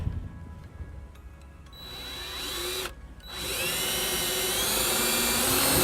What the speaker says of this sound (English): I'll take the self-tapping screw and ground off the grounding wire to